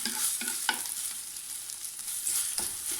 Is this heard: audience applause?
no